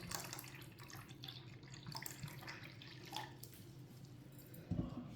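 Water is poured into a guava juice mixture in a kitchen, a faint, quiet trickle and splash with a few soft drips and a brief louder knock near the end.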